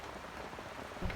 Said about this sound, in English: now it's reverting to its normal state of the English summer this year of just raining